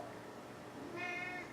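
A house cat gives a single short meow, clear and fairly close, rising out of quiet room tone without talking.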